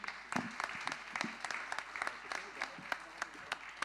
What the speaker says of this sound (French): On peut les applaudir en tout cas, merci à eux